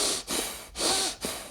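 Forceful, deep breaths drawn in and pushed out through the nose, three loud, close, airy rushes separated by short pauses.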